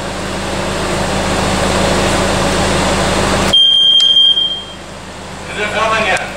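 A carbon monoxide detector alarm sounds in a garage, a loud steady high-pitched electronic beep that starts suddenly over a background hum and cuts off after about a second, with people talking nearby afterward.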